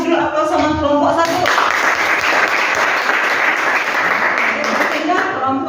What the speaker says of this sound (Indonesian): Kita kasih dulu aplaus sama kelompok 1.